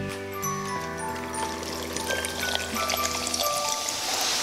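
Kefir drink pours into a glass in a steady, close liquid stream with a soft fizzing trickle, heard alone over a faint background tone.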